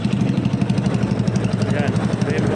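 Yamaha X1 motorcycle fitted with a Thai-made Kou pipe full exhaust, big elbow and straight pipe, rumbling steadily at close range with a rapid pulsing beat throughout.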